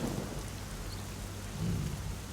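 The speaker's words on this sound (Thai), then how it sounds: "โอ้ฝนจะตกด้วย" Steady rain pours down with thunder rumbling underneath in the Northgard strategy video game, a constant dense hiss of rainfall throughout with no talk.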